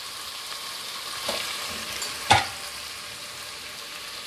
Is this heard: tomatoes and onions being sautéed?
yes